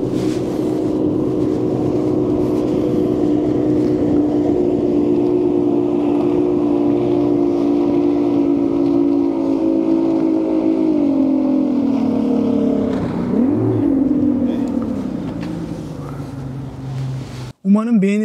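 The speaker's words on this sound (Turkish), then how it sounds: "Buradaki adalara giden küçük vapurlar var." Steady low drone of a small passenger ferry engine running close by in Norway, holding level before shifting and fading toward the end.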